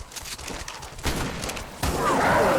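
Gunshots fired in the survival game ARK, a rapid volley of sharp cracks close by, growing louder toward the end with a metallic ringing tail.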